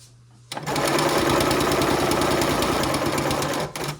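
A sewing machine runs steadily for a few seconds, chain piecing 2.5-inch quilt binding strips for a pinwheel quilt; the close, loud, rapid needle chatter starts abruptly and stops near the end.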